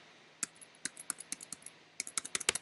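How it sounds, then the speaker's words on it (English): Numbers are typed on a computer keyboard in a quiet room, a few sparse, sharp key clicks at first and then a quicker run of crisp taps near the end, close and clear with no talk. "And now I'm going to type in the last 4 of my social."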